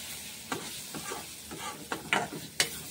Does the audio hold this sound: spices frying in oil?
yes